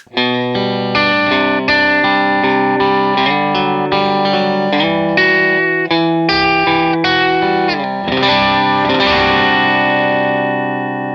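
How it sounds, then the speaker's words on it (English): A driven electric guitar through a Vox AC30 amp model plays chords and riffs with a crunchy amp tone and a touch of reverb, loud and continuous, no voices. "So this is how the amp tone is going to sound like."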